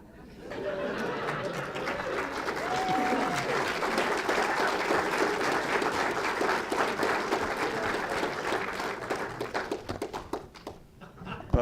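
An audience at a city-hall style civic event breaks into sustained applause that swells to a dense, roomy clatter of many hands. Scattered voices and cheers run through it before it tapers off.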